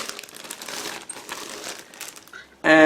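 A plastic bag holding two large sprues from an Eduard 1/48 Bf 109G-6 model kit crinkles and rustles steadily for more than two seconds, then stops abruptly as a brief tonal sound begins.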